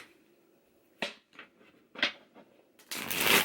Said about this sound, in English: let's pull some additional clarification cards